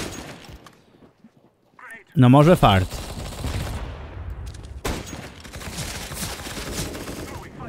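A loud burst of rapid gunfire rings out in a Counter-Strike match replay, followed by scattered in-game noise and further shots, while someone talks over it.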